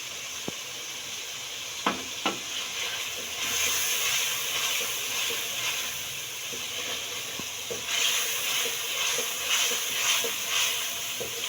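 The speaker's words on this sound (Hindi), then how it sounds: "मसाले की बुनाई हो रही है" Ground spice masala with a little water roasts in a pan for restaurant-style capsicum, potato and carrot curry, sizzling steadily with a bright continuous hiss that swells louder partway through, plus a few soft clicks of stirring.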